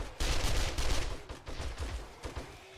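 SMG gunfire in 7 Days to Die, a quick string of close, punchy shots in short bursts with a brief pause, fairly quiet overall.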